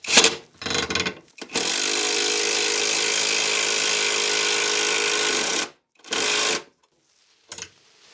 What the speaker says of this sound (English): I'm going to take my impact driver with socket on there.